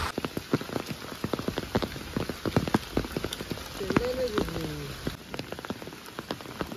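A heavy first monsoon downpour pounds down outdoors near a river, dense drops pattering and splattering sharply on surfaces. A brief voice rises midway under the rain.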